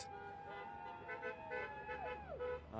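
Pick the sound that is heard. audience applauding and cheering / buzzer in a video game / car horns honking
car horns honking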